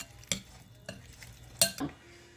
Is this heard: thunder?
no